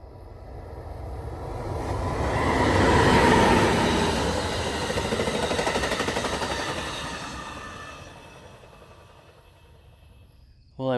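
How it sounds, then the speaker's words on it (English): An Amtrak train passes by at night near an island ghost town, a loud rolling rumble that builds to a peak, holds, then fades away, with a sharp sound at the very end. "we actually got 2 more Amtrak trains that are going to pass by within 15 minutes"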